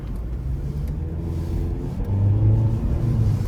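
The 1.8-liter engine of a 2009 Nissan Versa 1.8S hatchback with a CVT groans as it accelerates, a steady low droning rumble that grows louder and holds a rising hum, heard from inside the car without talk.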